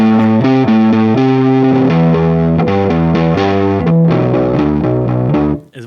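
Electric guitar run through a Boss DF-2 Super Feedbacker and Distortion pedal with the Keeley mod, set low on distortion and tone, plays a loud, doomy riff of chugging held chords and changing notes before cutting off abruptly at the end.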